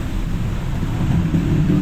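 Rain pours steadily on a vehicle driving from Baguio to La Trinidad on an afternoon in traffic, a dense, continuous low rumble and hiss that stays close and loud, with no talk.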